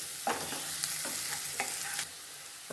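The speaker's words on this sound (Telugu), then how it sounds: "వేసి వేపుకుందాం. 2 minutes అట్లా వేపుకుందాం." Carrots fry in a pan for macaroni with veggies and sauce, a steady close sizzle broken by several scraping spatula strokes as they are stirred. No one speaks.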